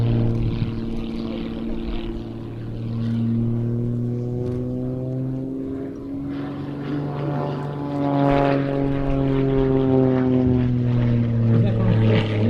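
A propeller aircraft flying an aerobatic display drones loudly overhead, its engine pitch rising and falling as it manoeuvres, with a voice talking over it.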